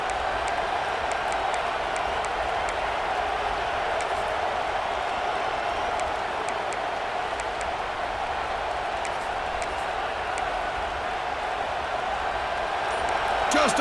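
Loud home crowd cheering in the EA Sports College Football 26 video game, a steady, dense roar that holds for the whole stretch without breaks.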